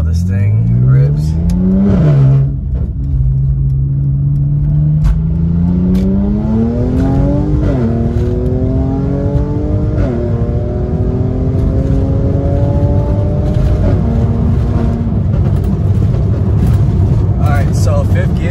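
A Mercedes C43 AMG with a carbon fiber intake accelerating hard through several gears, the loud engine note climbing and dropping at each shift over a steady road roar.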